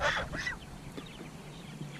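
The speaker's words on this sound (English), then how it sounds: "I do have some guard geese in here, they're young." Young guard geese about four weeks old honk on a pasture farm: a couple of loud nasal honks up close, then softer scattered calls.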